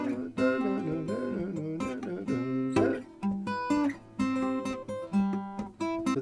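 Fingerstyle acoustic guitar plays a part, cascading plucked notes and ringing harmonics in a quick, steady pattern, close and clear with no talking.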